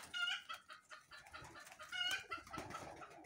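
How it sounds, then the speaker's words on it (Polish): A hen clucks close by among other chickens at a backyard poultry aviary, its repeated clucks rising in short bursts over a chorus of fowl calls. "Właśnie kurka się odzywa,"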